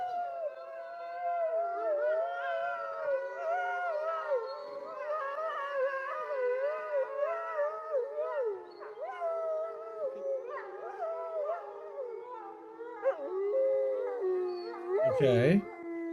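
A dog howls in long, wavering tones that rise and fall without pause for about sixteen seconds, loud and close, with a brief sharp yelp near the end.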